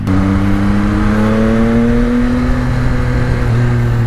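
A Yamaha XSR900 motorcycle accelerates hard, its engine note climbing smoothly and loudly in a rising tone over a constant rush of wind, with no talking.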